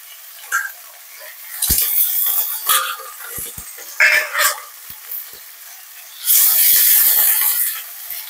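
Garlic frying in hot oil for Mecheri mutton kulambu, with a soft hiss broken by stirring clinks and scrapes and a louder sizzling burst near the end, no voices.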